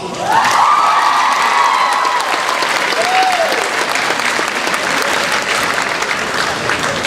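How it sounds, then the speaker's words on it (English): Crowd applauding at an awards ceremony for a senior: loud, sustained clapping with cheers and whoops, a dense, unbroken roar from start to finish. "That's worthy of applause."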